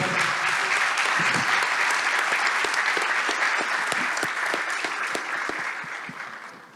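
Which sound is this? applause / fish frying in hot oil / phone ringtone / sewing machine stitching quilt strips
applause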